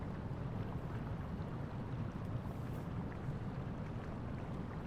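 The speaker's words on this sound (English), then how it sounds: "It's probably the wind." Steady wind blowing through a Final Fantasy XIV game scene, a constant broadband rush that holds at an even, fairly loud level throughout with no talk over it.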